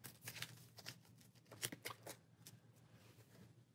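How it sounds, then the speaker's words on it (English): Cards from an encounter deck shuffled during a Marvel Champions tabletop game session, a quick run of soft riffling and papery flicks in several bursts, close and fairly quiet with no talking. "So go ahead and give our encounter deck another shuffle"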